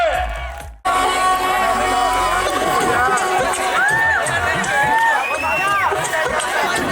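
A sangeet crowd at a wedding cheers and shouts in a loud, continuous din of voices and whoops, with some rising calls over the babble.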